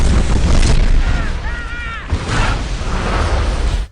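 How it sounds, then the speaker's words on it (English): Movie special-effects explosions tear through a jungle set and set it ablaze, a loud, rumbling series of blasts that swells, dips and swells again, with a brief whistling tone sounding in the middle. "the movie's special effects guy misinterprets the director and triggers a series of explosions"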